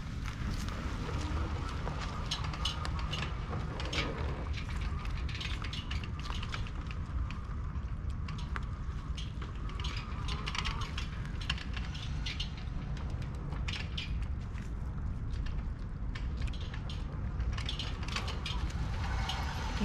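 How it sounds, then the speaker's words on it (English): The fenders of a 2020 Surface 604 Boar Hunter electric fat bike give off light, irregular clattering and ticking as it is pedalled over hilly ground under full assist, a continuous low rumble of tyres and drivetrain running beneath it. "Hear the fenders rattling just a little bit"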